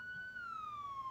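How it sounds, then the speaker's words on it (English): Police car siren in the Roblox game Liberty County, a brief clear electronic wail sliding steadily downward in pitch, moderately loud and alone. "Sorry about his siren,"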